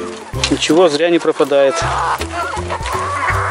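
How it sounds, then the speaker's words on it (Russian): Chickens cluck and squawk up close while pecking at kitchen scraps of watermelon rinds, melon peels, apple cores and peppers on a village farm, someone talking over the busy, loud flock. "Курицы вообще сейчас махом все съедят."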